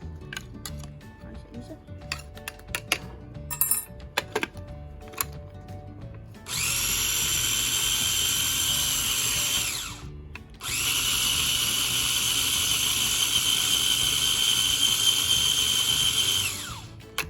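A kitchen mixer grinder grinding ingredients finely for a paneer naan sandwich, starting with rattling clicks, then two loud steady high-pitched whirring runs of about four and six seconds separated by a short pause.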